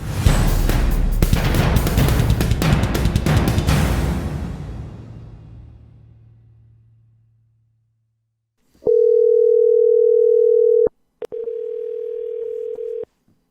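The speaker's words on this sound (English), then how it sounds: "let's go ahead and get John on the phone and see what he has to say" Telephone line sounds while a call is placed: a fading whoosh gives way to a loud steady dial tone that breaks off briefly and resumes before stopping.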